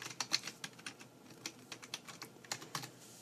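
Code typed on a computer keyboard, a run of irregular close key clicks with brief gaps between bursts, no voice.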